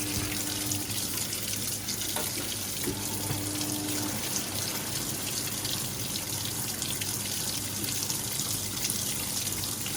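Simpson Enduro 701 washing machine filling with warm water on a normal warm wash, a steady rushing stream of water pouring into the tub, continuous and close with no talking.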